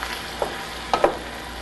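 Meat browns in a hot pan, a soft, continuous sizzle with a few brief clicks and scrapes as a utensil stirs it, close and steady with no voices.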